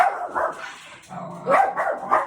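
A dog barks and yips close by, several short loud barks in quick succession with a whimpering tone, no other sounds around.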